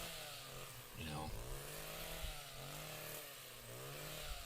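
An Echo PAS hedge trimmer attachment runs steadily while cutting brush, a buzzing two-stroke engine rising and falling in pitch as it bites into thick growth and lighter leafy stuff.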